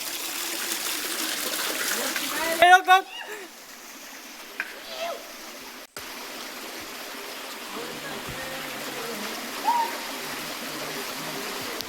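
Water streams and trickles steadily in the background while people talk nearby, with a brief splash early on.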